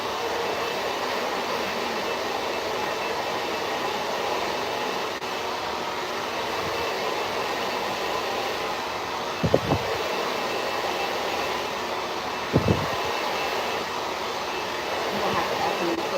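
A handheld hair blow dryer runs steadily through the whole stretch, a constant broadband whoosh used for a late-night blowout on natural hair, with a few brief knocks partway through.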